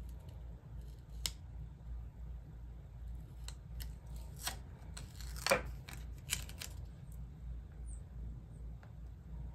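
Scissors snip out Cricut planner stickers with a run of quiet, sparse cuts and crisp clicks, close by over a low steady background hum.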